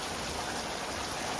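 Heavy rain falls steadily outside, a dense continuous hiss of drops striking surfaces, loud and unbroken, with no voices.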